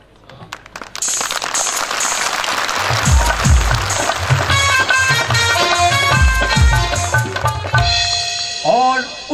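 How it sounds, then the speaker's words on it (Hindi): Soldiers (jawans) applaud in a loud, sustained burst of clapping that starts after a second and carries on for several seconds, with other noise mixed in near the end. "उसके बाद होती हैं मशहूर तालियां जो मेरे जवान बजाया करते हैं"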